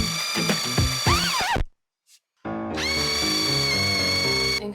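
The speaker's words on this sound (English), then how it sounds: "I'm just going to countersink the holes now" A power drill countersinks screw holes in hearth boards for a narrowboat fireplace, whining up in two bursts close by, with a brief silent pause between them.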